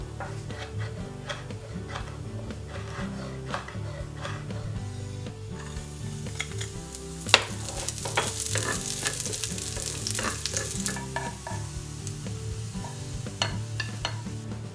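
Chopped dehydrated tomato pieces crisp in a frying pan, with a busy sizzle, frequent utensil clicks and scraping stirs, and a brief louder rush of hissing midway.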